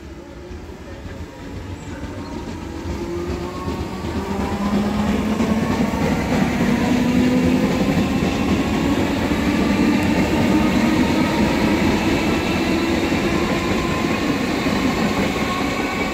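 A train passes through Hitchin station on the East Coast Main Line. The loud, steady rumble of wheels and carriages builds as the train nears, then holds as a continuous roar with rhythmic rail clatter and a faint tonal whine.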